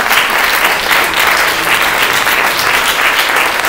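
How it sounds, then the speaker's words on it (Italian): A loud, dense burst of audience applause fills a lecture hall after a talk on water and consciousness, many hands clapping steadily and close throughout. "Un applauso."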